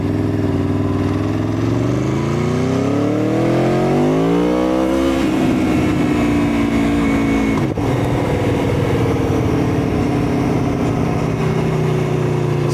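An Aprilia Tuono V4 1100 Factory motorcycle's V4 engine revs up with a steadily rising pitch for about five seconds, then drops into a loud, rough, rumbling idle that carries on close by, with no talking.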